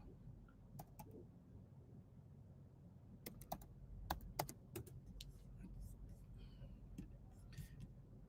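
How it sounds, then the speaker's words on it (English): Light typing on a computer keyboard: sparse, quiet key clicks in short irregular bursts over a low room hum, heard close. "Let me just type in Joshua."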